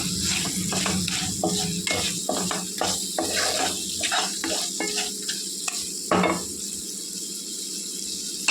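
Curry leaves dropped into a hot pan while making a Telugu-style chicken fry, crackling and sizzling steadily with repeated stirring scrapes and spatula clinks against the pan, close and fairly loud, no voices.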